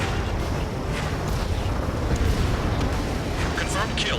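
An anti-aircraft gun destroyed by a missile in Ace Combat 7, heard as a dense, continuous roar of explosion and rumbling fire that fills the whole stretch without a break.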